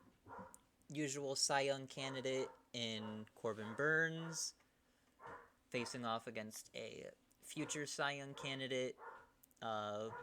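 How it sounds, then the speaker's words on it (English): A dog barks excitedly in the background, its short, fairly faint yaps partly buried under steady close-up commentary by someone talking through a Royals–Orioles postseason baseball game. "Sorry about the dog."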